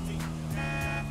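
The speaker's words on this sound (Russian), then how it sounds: "Кому сигналю?" A car horn honks in the video game Grand Theft Auto V Online, a steady tone that starts midway and holds over a low engine hum.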